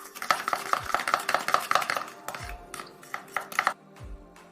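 Glue-free slime mixture with baking soda being whisked quickly in a bowl, a fast run of rhythmic clicking strokes that pauses and resumes, close and clear, with no talking.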